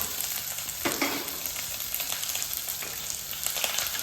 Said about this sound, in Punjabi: ਤੇਲ ਗਰਮ ਹੋਣ ਤੋਂ ਬਾਅਦ ਆਪਾਂ ਪਿਆਜ਼ ਐਡ ਕਰ ਦਿੰਦੇ ਹਾਂ